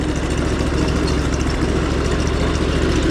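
A Craftsman LT4000 lawn tractor engine runs just above idle in fourth gear, giving a steady, close, loud droning rumble with no change in pitch or level.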